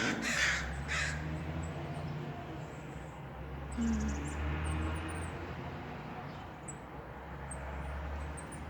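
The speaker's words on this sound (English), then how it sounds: "maybe it's just a crow" Crow caws outdoors, a couple of harsh calls near the start, with steady low rumble of traffic or wind underneath throughout.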